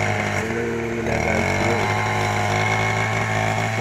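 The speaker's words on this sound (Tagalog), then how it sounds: "Ngayon ay grass cutter na" A gasoline grass cutter drones loudly and steadily close by while weeding a vegetable garden of string beans, eggplant, okra and chili, its engine pitch dipping and rising briefly as the load changes, with no talk.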